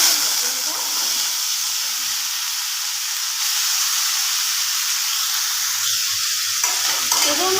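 Chunks of pumpkin and potato fry in hot oil, giving a loud, steady sizzle and hiss that goes on the whole time, with faint stirring.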